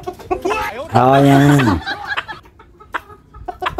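Red rooster and fluffy chicks clucking, with a loud drawn-out crow-like cackle in the middle and scattered short clucks and peeps around it, close by, while a person speaks briefly.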